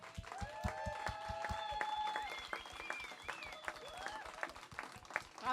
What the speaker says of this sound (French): J'aimerais qu'on applaudisse très, très chaleureusement l'équipe d'organisation du Festival des Arts de Ruelle.